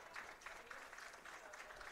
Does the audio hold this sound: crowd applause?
yes